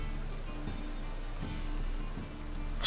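Steady in-game rainfall from The Witcher 3: Wild Hunt, a continuous soft hiss of drops on surfaces with faint low rumbling underneath, heard alone without voices.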